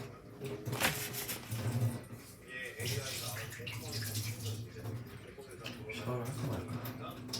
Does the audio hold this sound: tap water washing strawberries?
yes